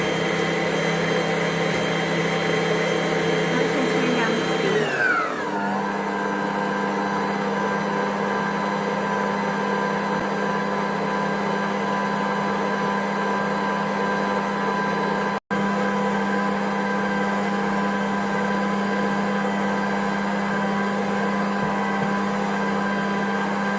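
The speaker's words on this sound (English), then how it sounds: "Now we're going to start mixing it together. First on high speed." An electric mixer on high speed working bread dough for a Norwegian Fastelavn bake, a steady loud whirring drone that shifts pitch early on and then holds an even, continuous hum throughout.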